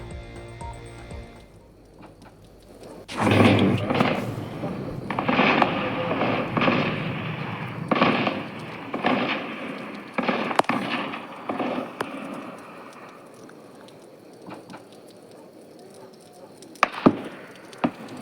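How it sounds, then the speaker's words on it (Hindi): Heavy gunfire in an exchange of fire during a militant attack on a VDC member's residence in Rajouri: dense, continuous volleys of sharp cracks and thuds that thin out into scattered, isolated shots, with a couple of loud reports near the end. "सुबह की तस्वीरें जब दोनों तरफैन के बीच ज़बरदस्त गोलाबारी चल रही थी"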